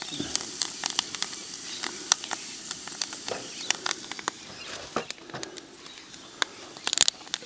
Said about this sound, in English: quick stir, let the thyme get into the garlic and the butter